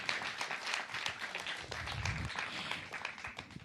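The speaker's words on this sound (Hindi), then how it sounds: "जोरदार तालियों से स्वागत करें।" An audience claps for yoga guru Swami Ramdev on the Satya Sanatan stage, a moderately faint burst of scattered, uneven claps that rises and falls unevenly over a few seconds.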